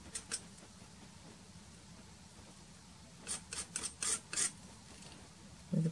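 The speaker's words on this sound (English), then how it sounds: "I'm just scraping off whatever colour I've got left on here to use for the shells." Palette knife working acrylic paint on a canvas for small shell details: faint scraping and dabbing strokes, a couple early then a quick cluster of short scrapes, soft and close with a quiet room hiss.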